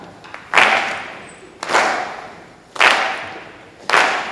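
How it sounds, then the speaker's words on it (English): A classroom audience claps in unison, four sharp group claps spaced about a second apart, each ringing briefly into the room, with no talk between them. "And clap, clap,"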